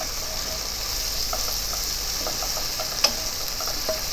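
A spoon stirs cream into a mushroom pink pasta sauce in a pan, with soft scraping and a low, steady sizzle, plus a few light clicks and one sharp tap near the end.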